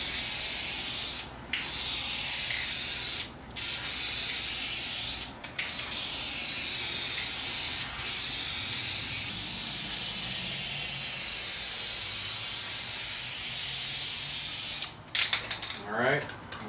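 Spray can hissing as paint goes onto the trunk lid of a 1990 Mazda Miata, long steady bursts broken by brief pauses, close and loud with no talking.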